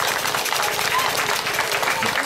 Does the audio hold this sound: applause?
yes